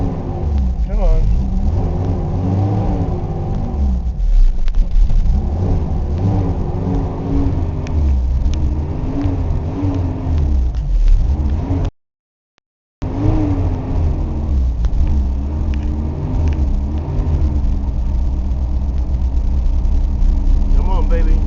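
A 2013 car engine runs rough and loud just after a cold start, a steady close rumble with revving swells throughout and a brief dropout partway, while a person talks over it.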